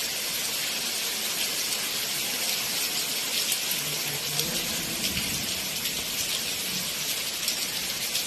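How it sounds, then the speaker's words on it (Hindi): Steady, dense hiss of heavy rain pouring down without pause, with a faint squeal and splashing water in the background; no one speaks. "ये देखो काफ़ी तेज़ से बारिश हो रही है, दबाकर बारिश हो रही है"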